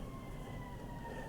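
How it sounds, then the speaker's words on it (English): An ambulance siren passes at a distance, a thin steady wail sitting faintly over a low rumble of traffic-like background noise, with no voices. "I don't know if you can hear that ambulance going by or not"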